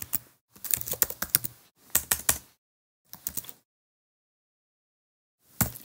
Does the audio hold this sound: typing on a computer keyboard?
yes